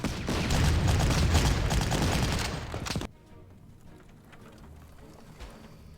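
An anti-tank cannon fires in the World War II strategy game Panzer Corps: about three seconds of loud, crackling barrage, then a sudden drop to a faint, low background hiss.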